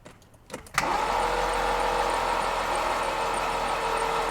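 Ferrari 308 GT4 V8, left unused for years, cranks briefly with a few uneven bursts before catching and settling into a loud, steady, close idle.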